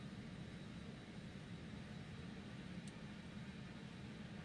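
Steady, even roar of BAe-146 jet engines from inside the cabin in Microsoft Flight Simulator 2020, a continuous low rumble with broadband hiss that holds level throughout with no one talking.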